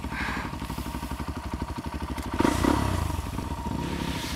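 A 250 cc motorcycle engine labors in first gear climbing a steep hill, a close pulsing thump with throttle surges and clattering over rough ground.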